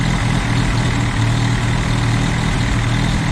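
Engine idling high and steady after a distributor swap from Joe's Motor Pool, the carburetor suspected; a close, continuous low rumble with no drop in speed and no talk.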